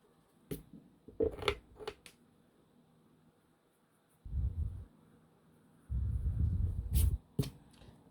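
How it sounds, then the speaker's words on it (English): Pencil sketch on paper being erased: a few short, soft scrubbing strokes spread across a quiet stretch, with two longer rubbing passes toward the end. "We'll erase it and we'll see."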